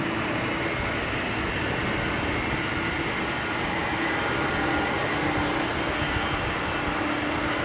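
Steady, loud roar of an aircraft engine at Heathrow Airport running continuously, a broad droning rumble with no voices.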